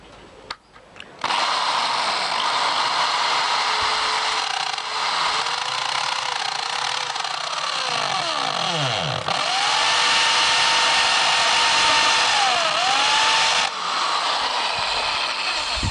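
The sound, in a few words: drilling wood with a small metal drill bit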